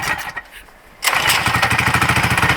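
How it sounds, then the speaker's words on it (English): A Mega Moto 212 mini bike engine, with choke on, caught on a pull start: a brief quiet pull, then it fires and settles into a loud, steady, rhythmic putter close by. "Fuel on, choke set to choke, switch on, first pull."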